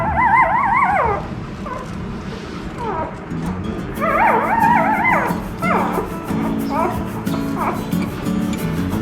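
A litter of newborn puppies whimpering and whining in high, wavering cries that come in bursts, with short yips and small overlapping whines from several pups close by.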